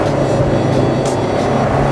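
A Honda S2000 engine drones loud and steady from inside the car as it is driven, a continuous dense roar with no clear rise or drop over two seconds.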